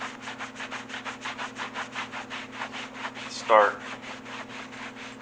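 Microfiber cloth buffing freshly dyed, stamped leather guitar strap, giving steady rhythmic rubbing strokes close by, with a steady low hum underneath and a brief voice partway through.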